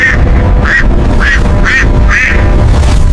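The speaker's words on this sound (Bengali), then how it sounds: "কি বড় হাঁস!" A large duck quacks loudly and close by, four rhythmic nasal quacks evenly spaced over a few seconds, with rough background noise beneath.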